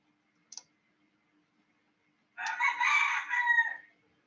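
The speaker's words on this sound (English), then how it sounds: "There's a rooster right outside, like literally right outside my window." A rooster crows right outside a window, one loud, close, drawn-out cock-a-doodle-doo lasting over a second, preceded by a single brief click, with near silence around it.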